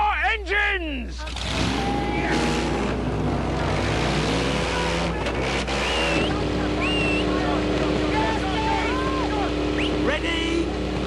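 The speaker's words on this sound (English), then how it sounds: "Gentlemen, warm up your engines!" Engines of homemade scrapheap pulling machines rev and idle as they warm up, a loud continuous mechanical drone with rising and falling revs, close by.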